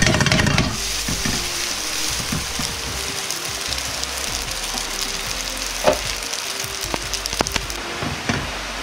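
Black fried rice stir-fried in an ordinary frying pan with sesame oil, a steady loud sizzle with scraping and clinking as the rice is mixed, several sharper spatula knocks near the end, and no voices.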